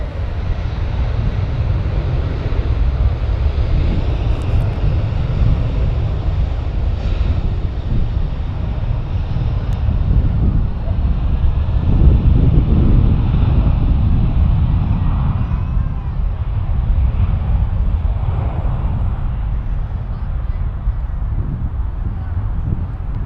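Qantas jet in retro livery taking off from Perth for Sydney, a broad, steady low roar that rises slightly toward the middle, heard from a distance with wind across the microphone.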